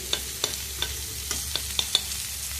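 Ginger sizzles in hot oil in a pan for vegetarian chow mein, a continuous frying hiss punctuated by six or so crisp utensil taps and scrapes as it is stirred.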